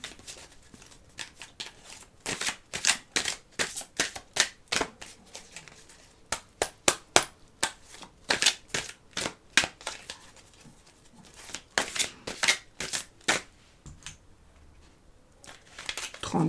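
Tarot cards shuffled by hand during a love reading, a run of crisp riffling and slapping bursts in irregular clusters, close and fairly loud, with brief pauses between.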